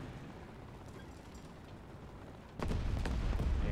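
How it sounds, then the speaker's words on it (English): Machine gun fire in War Thunder, a World War II combat game: a sudden loud, dense burst of rapid gunfire begins midway after a low rumbling background and continues to the end, with no talk. "we're seeing some machine gun fire down this road"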